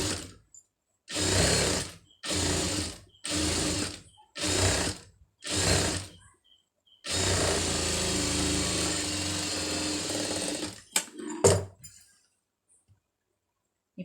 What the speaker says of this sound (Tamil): ரெண்டையும் வந்து சென்ட்ரு வந்து வச்சுட்டு முதல்ல வந்து ஓரத்து தையல் வந்து போட்டுருங்க.